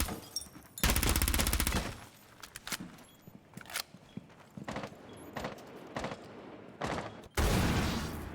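Gunfire in a competitive video game match, with long bursts of rapid automatic fire and scattered short volleys and single shots, loud and sharp against quieter clattering and footsteps in between.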